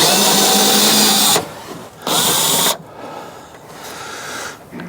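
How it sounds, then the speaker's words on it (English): A power driver undoes a small silver Torx bolt on the rear right-hand door latch of a Range Rover Sport. It whirs loud and close in two bursts, with quieter handling noise between them. "Got a little silver Torx bolt just there that we need to undo, and that will release the handle"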